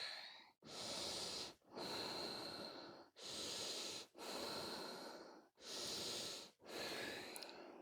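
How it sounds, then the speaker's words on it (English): Heavy, deliberate breathing during a yoga stretch in an active upper-back balance class: six long, even breaths with short pauses between them, close and loud, with no talking. "Keep breathing, keep breathing."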